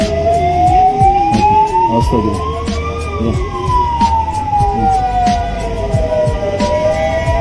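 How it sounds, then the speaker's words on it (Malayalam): An ambulance siren passes on a road at the scene of a fatal accident at Thalappady, a loud rising and falling wail sweeping over heavy traffic rumble, with a voice speaking briefly underneath. "ഇതാ ആംബുലൻസ് വന്നുകൊണ്ട് പോയിക്കൊണ്ട്"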